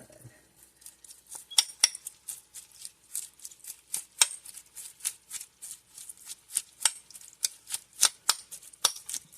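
Bao bun filling mixed by hand with black pepper and salt, giving a steady run of quick, soft clicking and scraping strokes close by in a bowl, rhythmic and unbroken, with no talking.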